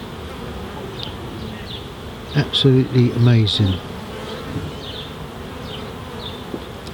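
Honey bees flying into a hive, a steady close buzzing swarm that goes on throughout, with someone speaking briefly over it midway.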